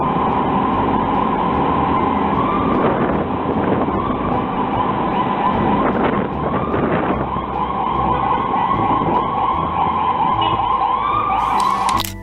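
An ambulance siren wails steadily and loudly in road traffic, its tone holding without pause over a low rumble of vehicles, with no talk.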